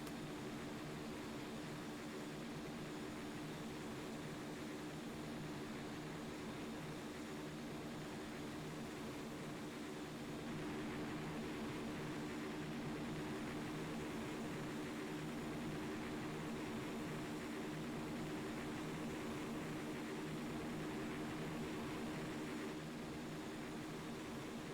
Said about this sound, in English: A Cessna 172P in the hands of RA-115.